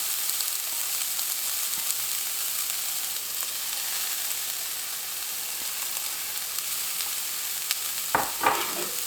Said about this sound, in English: to a good nonstick pan, I'm going to add the TVP